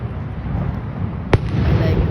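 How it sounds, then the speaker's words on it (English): Nightly fireworks show at Niagara Falls, Canada, in late December: a steady, dense wash of distant crackling and rumbling bursts with one sharper nearby pop partway through. "you must have enjoyed the fireworks"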